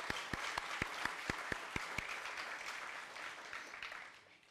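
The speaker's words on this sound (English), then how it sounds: "Give her another round of applause." Distant, fairly quiet crowd applause at an elementary school dedication ceremony for Oran M. Roberts ES, with a string of sharp, evenly spaced knocks over the first two seconds, then the clapping thins and fades away.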